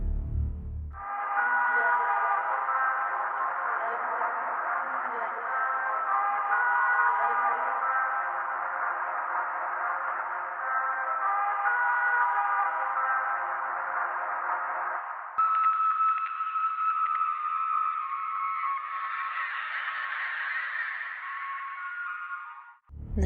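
Eerie, garbled speech-like tones from a first-person shooter video game, a continuous murmuring texture that seems almost like words without being intelligible, shifting to a thinner, higher drone near the end, with no real voice present.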